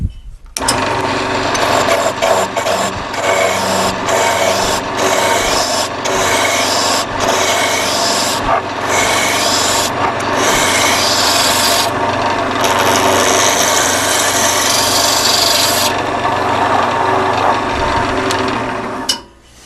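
A wood blank spins on a lathe while a gouge roughs it down into an eyeglasses holder, giving a loud, continuous rasping scrape with brief rhythmic breaks as the tool lifts, then stops abruptly.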